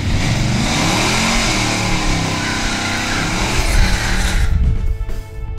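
A 1974 Ford Pinto Wagon drag car, budget built on pump gas, revs its engine in a loud sustained roar that climbs and wavers before cutting off sharply near the end.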